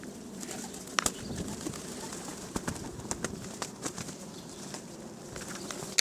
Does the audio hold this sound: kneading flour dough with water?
no